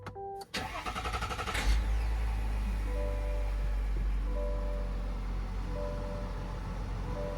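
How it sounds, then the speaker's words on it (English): A 2023 Chevy Tahoe engine cranks briefly and catches, then settles into a steady low idle rumble close by, with a faint repeating electronic chime over it. "I'm going to go ahead and start my vehicle."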